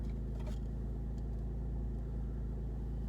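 Low, steady engine drone heard from inside a car, a constant deep hum with faint harmonic rumble and no noticeable revving, quiet and unchanging throughout.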